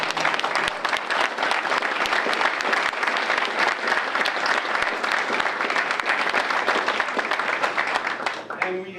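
Sustained applause from a crowd at a downtown revitalization press conference, loud and even for several seconds before a voice begins speaking.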